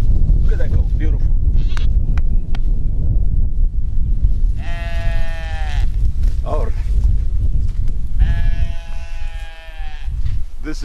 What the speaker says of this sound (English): Beautiful goat, isn't it?